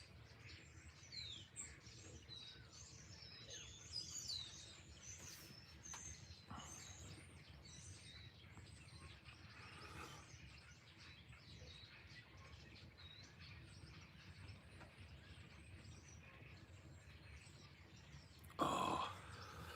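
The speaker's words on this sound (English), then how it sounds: "Little finches is what it is." Little finches chirp high in the treetops, scattered faint tweets and short calls drifting over a quiet, low outdoor background, with a brief louder rustle near the end.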